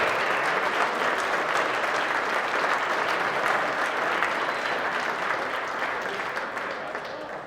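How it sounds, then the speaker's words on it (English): A crowd at a live Little Yellow Dog charity auction in 2021 gives a round of applause, loud and steady for several seconds before gradually tapering off. "Round of applause."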